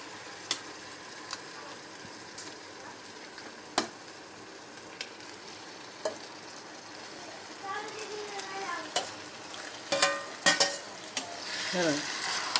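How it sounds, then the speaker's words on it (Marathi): Cleaned mutton tripe (vajadi) goes into a hot pan and fries, building into a gentle sizzle with scattered clinks and scrapes of stirring; someone speaks at times. "हे बघा आता वजडी टाकायला लागले."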